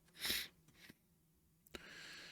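A person with allergies gives one sharp, close sneeze, followed by softer snorts and breaths, with a faint hiss behind.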